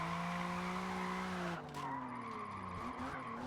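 In a drifting video game, a race car slides sideways with loud, sustained tire squeal over a whining engine, the screech shifting pitch as the slide changes, with no one talking.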